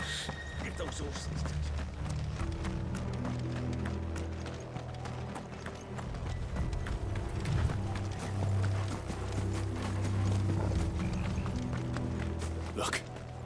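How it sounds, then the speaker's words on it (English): Horses gallop with a steady clip-clop of hooves in a Final Fantasy XVI game scene, the hoofbeats running continuously over a low rumbling score. "Get those horses."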